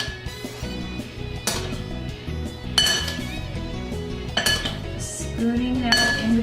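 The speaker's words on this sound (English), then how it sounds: "Spooning that in between all the petals of the blossom." A spoon clinks and scrapes against a metal bowl and dish while batter goes between the petals of a bloomin blossom, giving bright scattered metallic taps over soft kitchen background noise; no talking.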